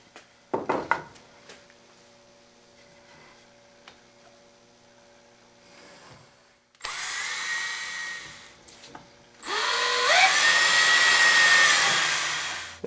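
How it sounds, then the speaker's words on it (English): A drill spins up twice in sustained high-pitched whirring runs drilling pilot holes in wood for a tablesaw jig, the second louder and longer, after some clattering and quiet. "we'll drill pilot holes and then insert screws into the countersunk holes"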